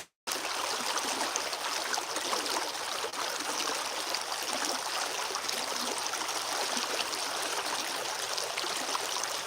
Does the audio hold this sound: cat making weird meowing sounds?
no